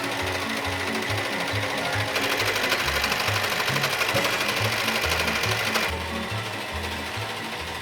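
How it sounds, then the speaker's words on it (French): A sewing machine zigzag-stitches along jeans fabric, a loud, close, steady mechanical chatter with a rapid pulsing needle beat that runs without a break throughout, slightly quieter near the end. "vous pouvez utiliser le point zigzag de votre machine à coudre"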